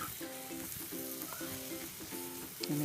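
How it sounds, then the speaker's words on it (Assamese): Banana stem, potatoes and chicken fry in a pan and get stirred, giving a steady sizzle with soft repeated scraping strokes, close and moderately quiet, with no talking. "ভালদৰে লৰাই দিম।"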